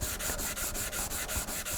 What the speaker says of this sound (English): So I'm going to use the harder sanding block